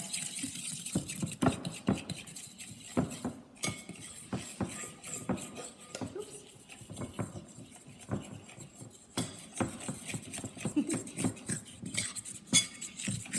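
Flour being mixed into Wendish noodle dough in a bowl, with continuous close clinking and scraping of a utensil against the bowl in irregular busy strokes, steady and fairly quiet throughout, no talking.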